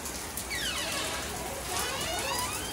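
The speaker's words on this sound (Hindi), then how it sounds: "देखो कितनी बारिश हो रही है, पानी पानी।" Heavy monsoon rain pours outside, a continuous close hiss of water falling and splashing on surfaces, steady and moderately loud throughout with no one talking.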